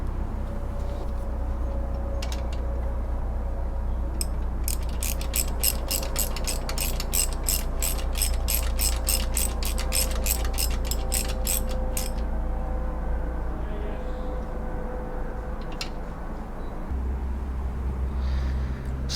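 Ratchet clicking rapidly as it tightens an alternator bolt on a Subaru Impreza, a run of evenly spaced ticks over a steady low hum, then a few isolated clicks, close and without talk.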